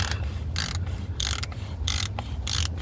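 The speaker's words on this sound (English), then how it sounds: "just start ratcheting it back in until it's snug." Ratchet wrench clicking as a part is tightened back in during routine maintenance, several quick bursts of rapid clicks in steady rhythm, close and fairly loud over a low hum.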